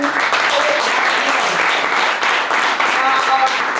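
Loud, dense applause from a youth slam poetry crowd cheering a poet, sustained and close throughout with a voice talking over it.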